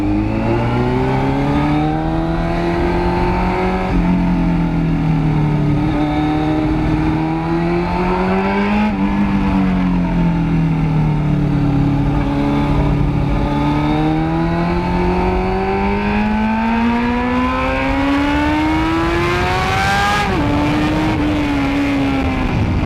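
A carburetted superbike engine pulls hard while being ridden, its loud, rough note rising and falling through repeated revs for over twenty seconds with no talking.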